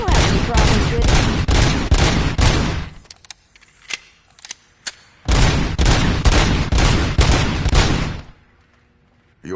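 Service weapon gunfire in a RoboCop video game: two long, loud bursts of rapid automatic fire, separated by a pause that holds a few scattered single shots and echoing clicks.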